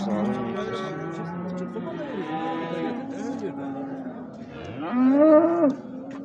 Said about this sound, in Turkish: Şu inek arkadaşlar.